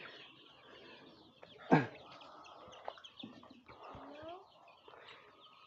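Free-range desi chickens cluck and call at a small farm, with one sharp, louder squawk standing out among quieter scattered clucks and faint background sounds, fairly close.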